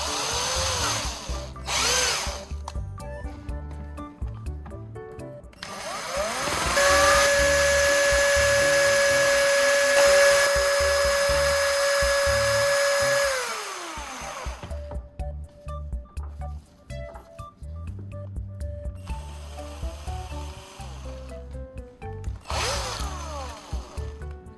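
A power tool whirs while trimming and shaping a recycled core to fit a terminal block connection, with a sustained steady tonal run in the middle framed by shorter handling noises and buzzes, no speech.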